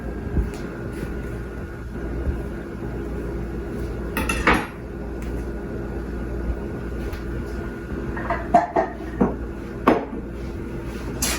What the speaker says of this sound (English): Okay, so I'm going to cut my avocado.